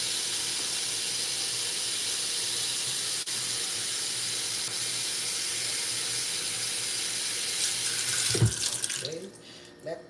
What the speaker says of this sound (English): This tap water, it goes in the Brita filter and it filters.